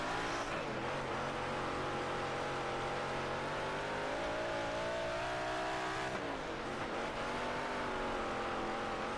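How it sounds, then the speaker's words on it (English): A big block dirt modified race car in WoO: Dirt Racing 24 revs hard, a loud continuous engine roar that climbs in pitch, dips briefly, then rises again. "feel the difference in the engine. Just wanting to rev out a lot more."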